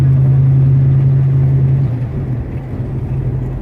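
A restored 1967 Camaro convertible with an automatic transmission idles and runs with a steady engine drone; partway through, the pitch and level drop as the transmission shifts.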